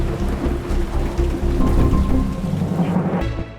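Steady rain falls through the whole stretch on a city street at night, with rumbling thunder low underneath and a broad wash of drops, loud and close, no voices.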